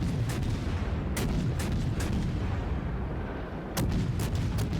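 Naval artillery fire from the battleship Bismarck in World of Warships, a string of sharp, loud booms, some in quick clusters and some spaced out, over a constant dense roar of battle noise.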